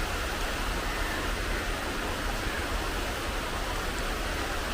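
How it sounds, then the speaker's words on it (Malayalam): Steady, even rain falling on a calm, windless day, a continuous soft hiss of moderate strength with no breaks. "മഴ വന്നിട്ട് ഇപ്പോഴാണ് ഇറങ്ങുന്നത്"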